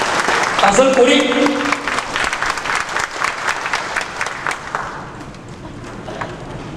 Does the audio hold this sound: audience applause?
yes